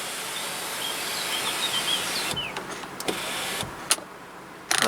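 The panoramic sunroof motor of a Seat Leon Cupra 280 hums steadily inside the car, then stops, followed by a few soft clicks and thumps as the panel settles.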